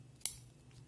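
One short, crisp snip of scissors cutting sewing thread after a finishing knot, close and clear over a low background hum.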